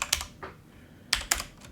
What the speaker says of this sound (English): And then I'm going to type in made minor level